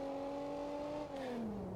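Loud damaged exhaust of a Wendover car in BeamNG.drive, a steady droning engine tone that holds for over a second then sags in pitch as the car slows, with no talk.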